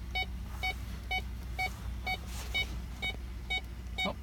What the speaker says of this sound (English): it's beeping because the sensor's on